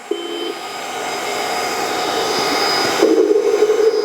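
A steady mechanical engine-like drone from a 1/12-scale RC hydraulic excavator's simulated engine sound runs throughout, with a low buzzing tone joining in near the end.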